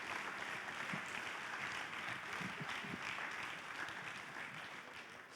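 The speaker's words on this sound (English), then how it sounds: "Huge round of applause for Professor van Stensel." Distant applause from a large audience at the CYBATHLON BCI Series event in Graz, Austria, a steady wash of clapping in a big hall that gradually softens toward the end.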